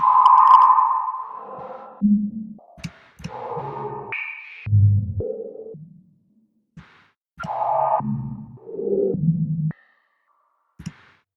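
A resonant synth filter modulated by a random noise LFO jumps between random pitches in short, whistling bursts with gaps of silence, sounding like a bubbly, erratic electronic chirp.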